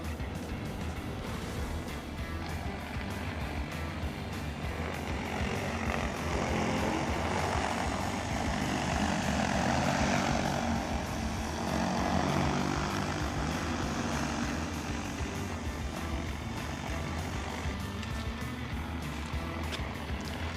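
A P150 MAX agricultural drone flies overhead with a steady, broad propeller whir that swells as it draws nearer around the middle and then eases off, heard alone without talk.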